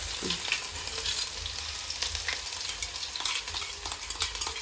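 Crushed ginger and garlic fry in sesame oil in a pan for a lemon and date pickle. A steady, close sizzle crackles with soft stirring scrapes, and no one speaks.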